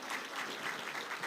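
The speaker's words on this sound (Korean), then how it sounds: "여러분들한테 박수 한번 쳐주세요" Congregation applause during a Sunday morning church service, a brief burst of dense, even clapping from many people in the sanctuary.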